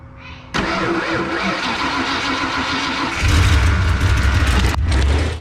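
A motor cranks briefly, then catches and settles into a steady mid-pitched running rumble that grows louder for a moment before continuing.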